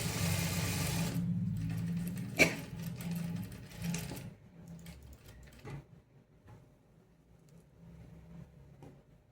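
Tailor's sewing machine stitching fabric for a pocket attachment: a fast, loud, whirring run of stitches for the first seconds, then short bursts and pauses as the fabric is turned, fading to quiet handling sounds.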